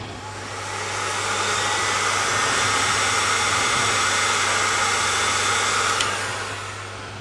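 A heat gun blows steadily over a section of a Hartke HA3500 bass amplifier board, a loud, even whooshing roar that swells up, holds for several seconds and then fades, with no voices.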